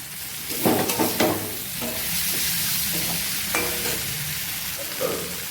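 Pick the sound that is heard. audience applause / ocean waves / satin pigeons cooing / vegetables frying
vegetables frying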